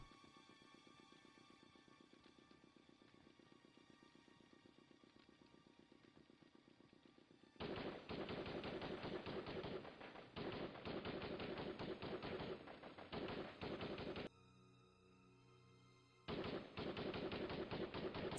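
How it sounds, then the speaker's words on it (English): Sporadic gunfire erupts from below in the Broken Sword game, loud clattering bursts that stop and restart over a continuous low hum, with a brief lull near the end before firing resumes. "Sound of sporadic gunfire from below."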